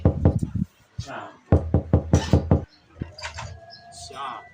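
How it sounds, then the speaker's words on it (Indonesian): Knocking on a door: two fast bursts of about five and seven sharp raps, close and loud, with brief pauses between, followed by people talking. "ketok pintunya"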